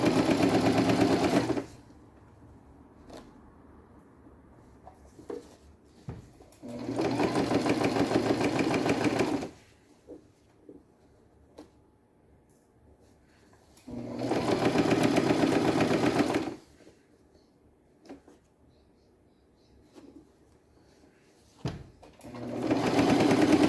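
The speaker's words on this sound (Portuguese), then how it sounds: "agora vamos costurar" A sewing machine stitches through a thick beach bag in three loud sustained whirring bursts of a few seconds each, separated by quieter pauses with small handling clicks and a brief start at the end.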